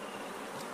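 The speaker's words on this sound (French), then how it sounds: "ces villageois ont repéré un essaim d'abeilles à l'intérieur de ce baobab" A swarm of bees inside a baobab tree gives a faint, continuous buzzing hum, brief and distant, with no voices.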